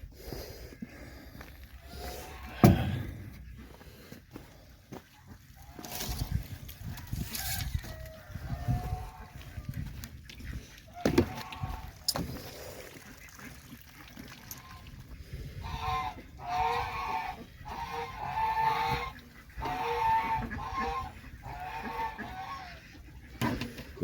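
Chickens cluck and murmur softly in the background amid scattered rustling and shuffling noises, a steady low farmyard bustle with no talking.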